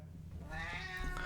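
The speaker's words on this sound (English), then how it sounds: "Shut up, cat." A cat meows nearby in one drawn-out, rising, whining cry, fairly faint, over a low background hum.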